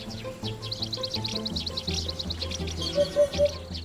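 A flock of small sparrows chirps in rapid, overlapping high tweets over a low background rumble, with a few louder calls near the end.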